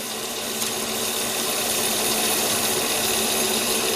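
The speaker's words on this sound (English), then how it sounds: "Step one is getting the steel cut off to a manageable length." A loud, steady mechanical whine of an old power saw grinding through a steel bar, continuous and close throughout.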